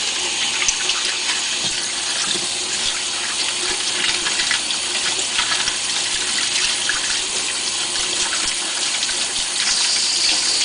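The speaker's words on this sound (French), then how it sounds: "Au moment de l'utilisation, je vais le rincer à l'eau chaude." Hot tap water runs steadily and rinses an intimate accessory under a faucet, a continuous near splash and hiss with no talking.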